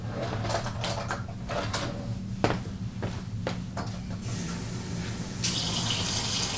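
Cold water pours into a bowl of waffle batter mix from a tap, a steady gushing stream broken by a few short knocks and clatters, close and fairly loud.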